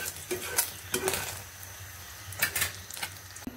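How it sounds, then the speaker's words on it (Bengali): A utensil scrapes and taps against a pan while a fried egg is cut into pieces, giving a few sharp metallic clinks over a faint sizzle. "আমি এখানে কেটে কেটে পিস করে রাখছি দেখেন।"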